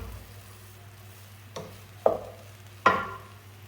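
A spatula works through chicken fried rice with scallions in a pan, making three or four short scraping knocks against the metal over a faint, low background hum.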